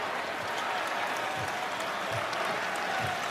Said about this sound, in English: Even the Knicks are applauding.